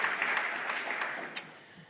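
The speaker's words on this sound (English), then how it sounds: "please give both Joseph and Alma Gildenhorn a round of applause" Audience applause at a university lecture, a faint, steady patter of many hands clapping in a hall, heard alone and fading slightly toward the end.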